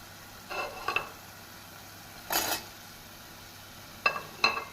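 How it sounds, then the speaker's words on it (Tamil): Taro root being stirred into masala in a pan, heard as a few soft, brief scraping and sizzling bursts of a spoon against the pan over a quiet background. "சேப்பங்கிழங்கு சேர்த்து நாம் மசாலாவுடன் நன்கு பிரட்ட வேண்டும்."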